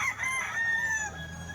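An October-born alimbuyugin rooster crows once, a loud, near call with a long, wavering, slightly falling tail, on a rainy, chilly day with faint background noise.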